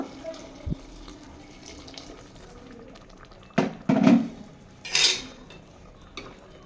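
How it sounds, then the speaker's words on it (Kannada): Hot water is poured into a pot of mutton being cooked for biryani. There are short splashing pours and metallic pot clinks, a couple of bursts over quiet kitchen background. "ಇವಾಗ ಇದಕ್ಕೆ ನಾನು ಬಿಸಿನೀರನ್ನ ಹಾಕ್ಕೊತಾ ಇದ್ದೀನಿ"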